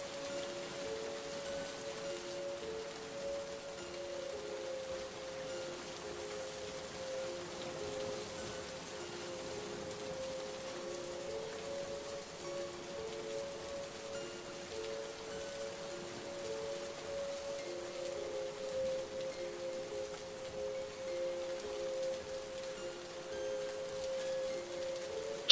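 Steady rain falls outdoors in an empty spot where a stalled petrol vehicle stands, a constant even hiss lasting throughout, with a faint sustained tonal hum running underneath and no talking.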